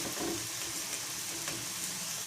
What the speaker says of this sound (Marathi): तर दुसऱ्या साईडनं पण आपण मस्त तळून घेऊया याला.